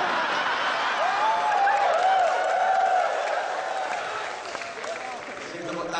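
An audience at a religious lecture in Bojonegoro claps steadily, a broad wash of applause mixed with scattered voices and murmurs from the crowd throughout.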